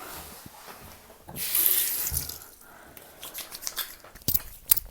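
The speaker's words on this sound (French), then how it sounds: "je commence par laver mon visage pour enlever toutes les saletés de la nuit" Running tap water at a bathroom sink during a morning face wash: a steady, close splashing gush swells for about a second, then gives way to scattered drips and handling noises. No one speaks.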